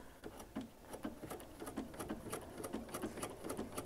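A sewing machine runs steadily while stitching a quilt, its fast needle patter and motor hum continuous and close, fairly quiet with no voices.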